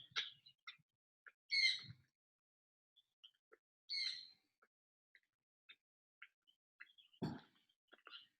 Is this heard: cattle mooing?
no